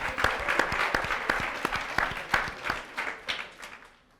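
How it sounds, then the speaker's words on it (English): An audience at a digital influencers event applauds with a burst of dense clapping, loud at first with sharp individual claps standing out, then gradually thinning and fading out. "Let's round of applause"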